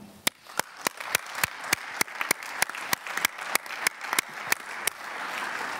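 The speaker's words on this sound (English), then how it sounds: "I would like a round of applause for, I think, seven fantabulous presentations here this morning" An audience at a ZeroCon18 session on universal design in the built environment applauding presentations: a wash of clapping with loud, evenly spaced close claps from one nearby person cutting through, sustained throughout.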